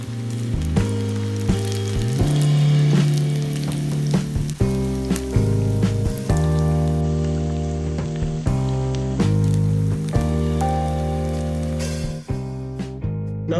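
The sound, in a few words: chicken deep frying in oil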